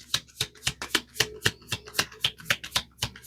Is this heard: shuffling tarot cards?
yes